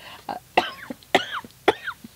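A run of four or five harsh, throaty coughs in quick succession, close and fairly loud, with short gasps between them.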